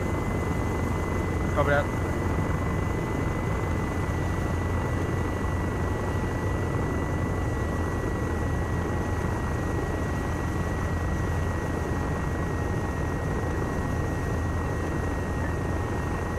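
Helicopter in Arma 3 flying with a steady, loud rotor drone that runs unbroken throughout, with brief radio-style voices talking over it.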